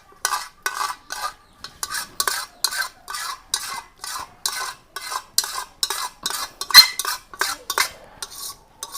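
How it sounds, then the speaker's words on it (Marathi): A metal spoon scrapes homemade kajal soot off a small steel plate in repeated short strokes, a steady rhythmic scratching heard close and alone. "आता हे आपल्याला कसं काढायचंय तर चमच्याने आपल्याला हे काढून घ्यायचे."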